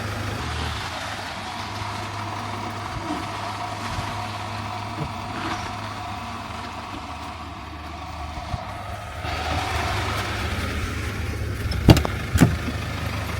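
A campervan engine idles and rumbles steadily at close range while the van manoeuvres to park. A couple of sharp knocks come near the end.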